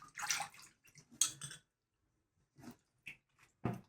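Children at a kids' school wash produce in water, producing short splashes and swishes in separate bursts with quiet gaps between, close and fairly soft.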